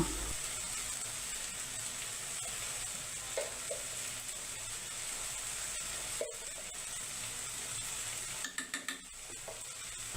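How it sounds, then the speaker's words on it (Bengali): Ground spices such as turmeric, red chilli and coriander powder are stirred and fried in a pan for an atar dal curry, giving a steady close sizzle with scraping spoon strokes and a cluster of clinks near the end, no voices. "এখন নাড়াচাড়া করে মশলাগুলো আরও কিছুক্ষণ কষিয়ে নেব"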